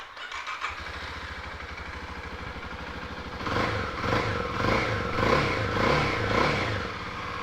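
A 2010 Kawasaki KLX250 trail motorcycle, a Japanese bike not used in a while, cranks and fires straight up, then settles into a steady thumping idle. Partway through, the revs rise into a louder, uneven blipping. No one speaks.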